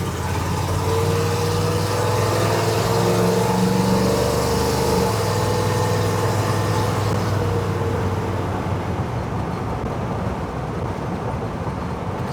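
A small block Chevy car running a 950 CFM carburetor drives along, its engine a steady loud drone with a low rumble that shifts pitch partway through, then settles into rougher broadband road noise.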